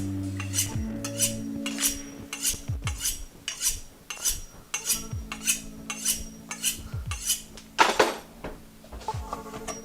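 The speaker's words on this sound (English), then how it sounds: "when I'm just moving my knife, it's not actually chopping through because the knife has to cut through that waxy layer" A sharp knife cuts Fresno peppers on a cutting board in a home kitchen, giving a quick series of crisp, close tapping chops in a steady rhythm with small clinks between them.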